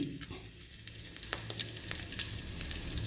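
Asafoetida dropped into a little hot oil after frying potatoes crackles and sizzles steadily with quick pops, close but fairly quiet, with no one speaking.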